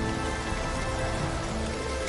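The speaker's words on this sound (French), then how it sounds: "Des gouttes grosses, comme des pièces de monnaie, se mirent à tomber, martelant le sol comme de la grêle." Heavy rain pours down in big drops, hammering the ground in a dense, continuous hiss and patter, steady and loud, with no voices.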